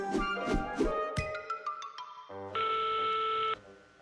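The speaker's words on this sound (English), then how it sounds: "Oh, they answered the phone." Telephone in an animated cartoon: a quick run of dialing beeps and tones, then a sustained electronic ringing tone that holds for about a second before cutting off, clear and close with no voices.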